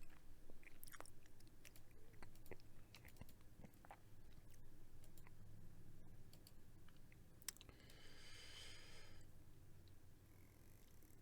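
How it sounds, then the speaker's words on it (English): Circus peanuts are chewed close to the mic, with soft crunching, clicks and a rustle of the bag partway through, heard faintly against a low hiss and no talking. "You guys get to hear all the crunch. All the crinkle of the bag."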